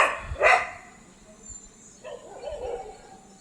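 Two dogs bark in a forest where deer and sambar are calling: two sharp, loud barks come at the start, followed by fainter, scattered yips and calls in the distance.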